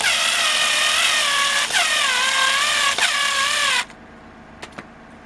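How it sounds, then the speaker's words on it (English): A low-powered electric screwdriver drives a screw while a basement light is being installed, giving a steady high whirring whine with two brief dips. The whine cuts off abruptly, and a couple of faint clicks follow. "This is a low-powered screwdriver, so it kind of works for that."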